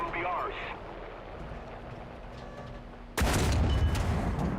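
A Centurion Mk.3 tank gun fires at aircraft in War Thunder, one loud sudden blast that cuts in after a quieter stretch of engine rumble and lingers as roaring noise to the end.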